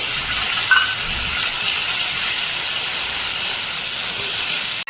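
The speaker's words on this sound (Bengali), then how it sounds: "এবারে আমি মশলাটা দেবো, নিয়ে ভালো করে ভাজবো।" Ground paste of cumin, chili, black pepper and ginger frying with onion and tomato in a pan: a loud, steady sizzling hiss throughout, with a faint clink near the start.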